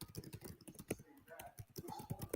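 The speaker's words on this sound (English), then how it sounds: "Let me retype that right quick." Rapid clicking keystrokes on a computer keyboard, a dense irregular patter up close with quieter gaps, with faint voice sounds underneath.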